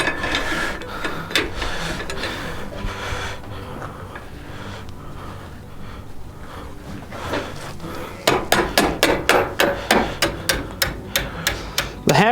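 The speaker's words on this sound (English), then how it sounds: "The hammer just allows me to apply some more percussive pressure to force the spring into a nicer shape." A hammer strikes a heated steel spring being forced into shape for a courting candle, at first scattered blows, then a fast, regular run of sharp, ringing metallic hits close by, with no talking.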